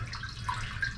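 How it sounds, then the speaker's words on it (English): Weak flush water in an RV toilet bowl, pressed by foot pedal: a thin, steady trickling wash of water that runs continuously at low level, with no talk over it. "when I push the pedal to flush this, there's just not much pressure"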